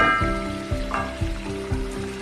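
Broken wheat upma being stirred in a hot pan, a steady sizzle with rhythmic scraping strokes of the spoon repeating about every half second, close and alone.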